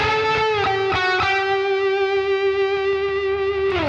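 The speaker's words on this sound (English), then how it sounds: "The comp is giving it a bit more sustain." Electric guitar solo played through a Sonicake Matribox II Pro multi-effects unit with compressor, Timmy-style overdrive and echo into amp and cab simulation, a few picked notes then one long sustained, slightly driven note ringing out with echo tails.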